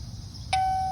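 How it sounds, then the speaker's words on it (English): A wireless doorbell camera's chime rings once after the button is pressed, a clear bright tone that sustains and slowly fades over a low background hum. "If you press the button, you can hear the chime there"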